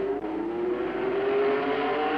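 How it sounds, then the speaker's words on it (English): A Lotus 49 Formula One car with a Cosworth DFV V8 runs at Monza during the 1967 Italian Grand Prix, giving a sustained, high engine wail whose pitch climbs slightly over the brief stretch, with no voices. "As Clark set off for more practice laps, I thought that if there's one place the DFV will sing, it will be here at Monza"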